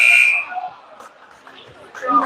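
During a junior varsity basketball game in a gym, a loud buzzer sounds at the start and then cuts off, followed by commentary and crowd noise, with a brief tone near the end.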